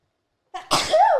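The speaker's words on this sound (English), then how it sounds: "And he sneezed." A single sharp sneeze, close and loud, with a quick intake of breath before the burst.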